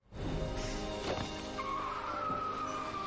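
A bus skids and strikes a person in a film scene, heard as a loud, sustained tire screech over a vehicle's roar, with a thud partway through and a rising squeal that holds to the end.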